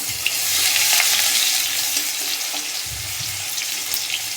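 Garlic paste and dried red chillies fry in hot oil with a steady, close sizzle, stirred throughout, with a few low thumps from the pan; no one speaks.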